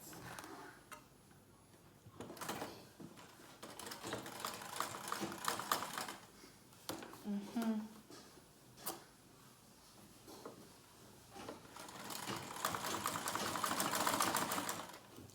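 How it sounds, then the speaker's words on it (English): A sewing machine stitches a pencil skirt seam in several bursts of rapid mechanical chatter, stopping and restarting, close by with quiet gaps between runs. "Just continue sewing this way."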